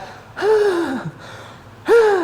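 A voice imitates wheezing asthmatic breathing with two drawn-out, rasping, whistling breaths whose pitch slides downward, loud and close with a brief pause between them.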